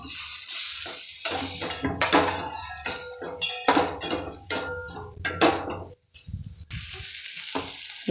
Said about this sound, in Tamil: இப்போ இந்த வறுத்து வச்ச முட்டையை முட்டை பொரியலை உள்ள கொட்டிக்கலாம்